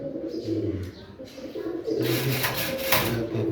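Large Lahori and Sirazi pigeons coo at a pigeon farm in Jessore, with low, repeated rolling coos close by amid a busy background of other birds and faint voices.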